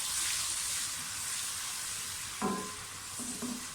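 Ground onion sizzles in hot oil with cardamom, a steady loud frying hiss with a couple of soft stirring scrapes near the end.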